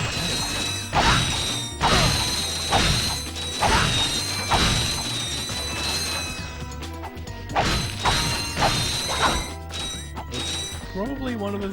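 A giant box of bolts breaks apart in the Ratchet & Clank video game, repeated metallic clanking smashes and ratcheting mechanical clatter in rhythmic bursts, with a voice talking over parts of it.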